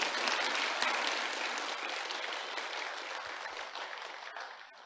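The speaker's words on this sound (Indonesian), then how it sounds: "Oke, tepuk tangannya ikhlas semuanya." Sustained applause from an audience at a motivational talk on trading, dense and steady throughout, tapering slightly toward the end with no voices over it.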